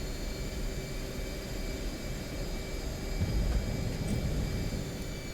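A jet aircraft taxiing on a carrier deck in a flight simulator game gives a steady, fairly quiet engine whine and broadband roar with a high constant tone, slightly swelling partway through, no talk.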